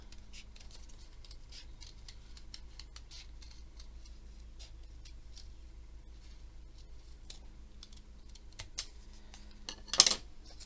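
Small scissors snipping paper around a shape for a journal, making quiet irregular clicks and rustles close by, with a louder crinkle of paper near the end.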